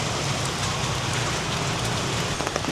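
Steady rain falls on a street in Vietnam, a dense close patter of drops hitting surfaces that continues evenly throughout, with a few sharper splashes near the end and no talking.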